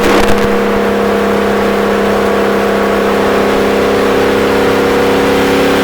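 A race car engine held steady at 4,200 RPM while circling a track at Fontana, a loud, continuous drone with a steady pitch that runs throughout without letup.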